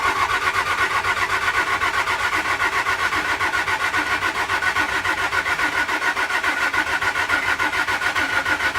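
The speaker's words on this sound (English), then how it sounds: "One last extra long crank." A damaged car from a dealer-only auction lot keeps cranking at length without firing, the starter churning in a steady, even whir that never catches, with no voices over it.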